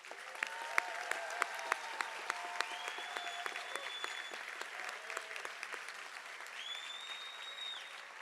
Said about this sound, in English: Please join me in giving one final round of applause to all of these graduates.